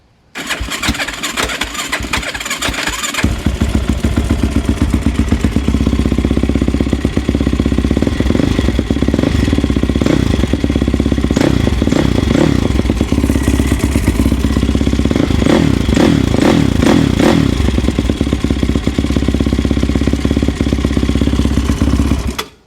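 A Yamaha YFZ450 quad engine cranks briefly, then catches and runs loud and close, a rapid even four-stroke chatter with a few throttle blips before settling to a steady idle.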